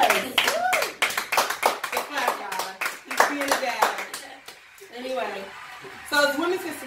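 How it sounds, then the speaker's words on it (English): An audience gives brisk, fairly close clapping for Women's History Month that fades after a few seconds while a person keeps talking over and after it. "Clap for us."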